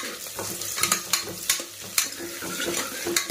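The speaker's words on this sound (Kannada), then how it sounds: "ಒಂದು ಈರುಳ್ಳಿ ಹಾಕಿ ಚೆನ್ನಾಗಿ ಇದನ್ನು ಫ್ರೈ ಮಾಡಬೇಕು" Onion frying in a pan for a festival meal, with steady close sizzling broken by repeated scraping stir strokes of a spoon against the pan.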